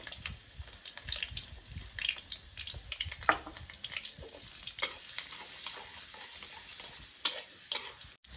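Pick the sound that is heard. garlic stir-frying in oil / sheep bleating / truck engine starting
garlic stir-frying in oil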